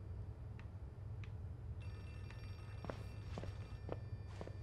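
In the horror game Outlast 2, a telephone rings somewhere in the scene, with faint repeated bell tones and scattered footsteps and knocks over a steady low background rumble.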